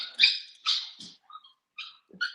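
A dog barks in a short run of sharp, loud yelps and barks close by, with brief pauses between them and no talking over them.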